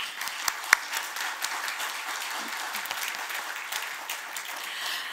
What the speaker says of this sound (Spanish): un fuerte aplauso para los cuatro